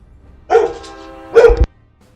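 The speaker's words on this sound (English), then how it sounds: "Why did you start barking?" A single dog gives two loud, close barks with a sustained whine between them, then falls silent.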